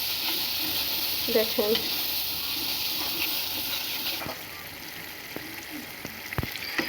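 Salt, chilli powder and poppy seed paste with green chilli fry in a pan, giving a steady close sizzle broken by stirring scrapes and clinks, with a brief spoken word near the start.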